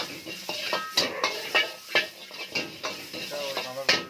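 Raw chicken is sautéed with ginger and garlic in a pan. A spoon clatters and scrapes against the pan in repeated, uneven strokes over a soft sizzle, close and fairly loud.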